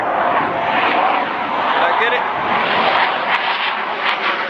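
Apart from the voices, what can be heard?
jet aircraft flying overhead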